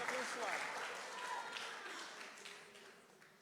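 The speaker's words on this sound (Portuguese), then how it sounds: "Aplaude a Jesus, dá glória a Deus." A church congregation applauds during a Portuguese-language evening service, a faint, steady patter of clapping with some talking mixed in, tapering gradually.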